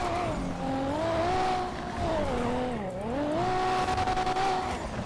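A tuned Nissan GT-R R35 drives in the video game GTA V, its engine note climbing and dipping through gear changes with a sustained whining tone and loud exhaust, close and continuous.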